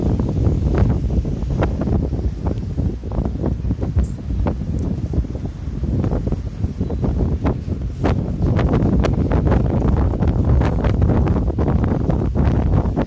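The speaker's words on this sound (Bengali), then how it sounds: "মেঘলা আকাশে লঞ্চ ট্রাভেল।" Passenger launch travelling on a river under a cloudy sky, with strong wind buffeting the microphone and a steady low rumble of the boat throughout.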